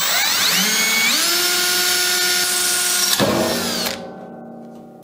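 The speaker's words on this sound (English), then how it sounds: "Next, I'll drill a small pilot hole." A power drill spins up with a rising whine, drilling a small pilot hole, runs steadily for a few seconds, then winds down and stops.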